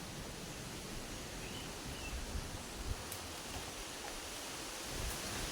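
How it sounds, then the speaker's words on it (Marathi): Steady broadband rush of rain with wind, continuous and even, no voices, with a few faint rustles. "परत पाऊस येत आहे"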